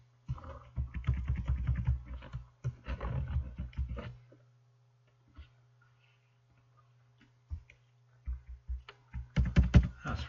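Typing on a computer keyboard, with bursts of rapid clicking keystrokes, then a pause, then scattered taps and another quick flurry, close by over a steady low hum.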